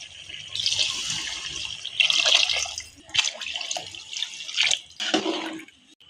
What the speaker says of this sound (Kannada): 2 ಗ್ಲಾಸ್ ಅಕ್ಕಿಗೆ 4 ಗ್ಲಾಸ್ ನೀರು ಹಾಕ್ತಾ ಇದ್ದೀನಿ.